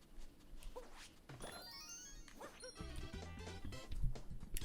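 A dog barks and yips in Super Mario Odyssey amid game music and thudding impact sounds, the barks short and bright over busy in-game audio with no talking.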